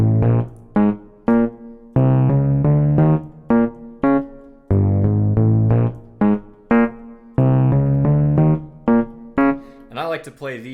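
A keyboard plays a funky bass line, loud and close, with short staccato notes alternating with longer held tones, including a run of chromatic notes, in a repeating syncopated pattern.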